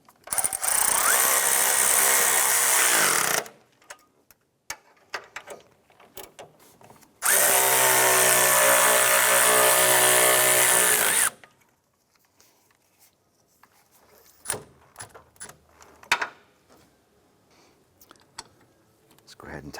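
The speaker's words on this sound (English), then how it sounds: "let's go ahead and tighten these down" A power tool drives the bolts of a front torque strut engine mount on a 2006-2013 Chevrolet Impala, two loud sustained whirring bursts of several seconds each, separated and followed by quieter clinks and handling noises.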